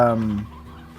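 A chicken clucks in the Slime Rancher video game, one loud close squawking cluck that fades over about half a second.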